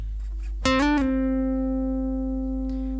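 A single plucked guitar note slides up and quickly back down, then rings on and slowly fades.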